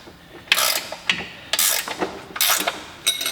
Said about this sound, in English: You're going to be using a 3/4 inch wrench and a 3/4 inch socket to do this.